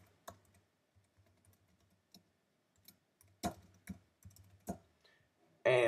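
An email address is typed on a computer keyboard as scattered, uneven keystroke clicks, soft and close in a quiet room, ending with a louder burst of rapid key presses.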